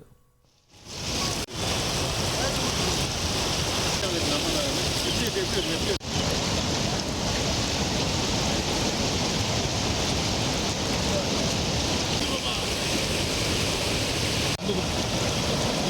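Flood water in the swollen Mullai Periyar river after a night of heavy rain rushes in a loud, unbroken roar, a dense wall of churning noise that runs on for the whole stretch with no voices over it.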